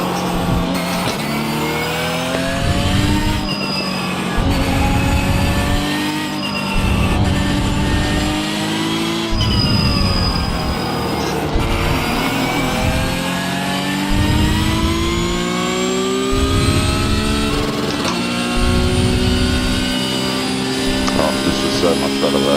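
Race car engine audio from the iRacing sim racing game, with a steady, loud engine drone whose pitch rises and falls through repeated revs and gear shifts across the whole stretch.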